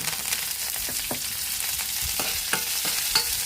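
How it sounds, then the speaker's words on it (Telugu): Ginger pieces and curry leaves crackle in hot oil in a pan for semiya upma, a continuous close sizzle with rhythmic scrapes and taps of stirring. "కొంచెం అల్లం మొక్కలు కూడా వేసుకుని వేసుకోవాలండి బాగా ఇవి బాగా ఫ్రై అయిపోతానండి ఇవి కొంచెం కరివేపాకు కూడా వేసుకోవాలండి"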